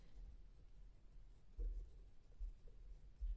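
A pen writing on paper while working a maths word problem: faint soft scratching strokes close by, with a few slightly louder strokes, no talk.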